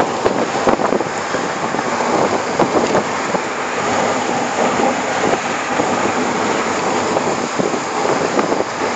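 Steady, loud wind buffeting a microphone while riding in the open back of a moving truck, a continuous roaring rush with gusty fluctuations and no voices.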